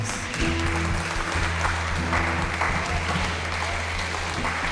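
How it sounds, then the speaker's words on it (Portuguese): A church congregation claps steadily and fairly loudly for the full stretch, the dense patter holding even throughout, with sustained low musical tones humming underneath. "Glorifiquem a Deus com uma salva de palmas"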